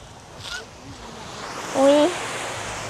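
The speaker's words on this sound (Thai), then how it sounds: "มันสะคลื่นมันซัดเข้ามา" Sea waves wash onto a Thai beach in a soft, steady rush, with one brief louder surge near the end of a short stretch.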